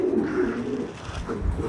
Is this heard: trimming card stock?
no